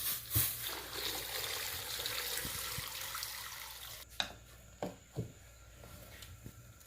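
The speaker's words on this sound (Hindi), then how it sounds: "और अब ये गर्म पानी किया है मैंने, वो डालने लगी।" Hot water is poured into a cooking pot of desi-style goat trotters being prepared in a home kitchen. A steady splashing stream runs for about four seconds, then a few sharp clinks and knocks follow close by.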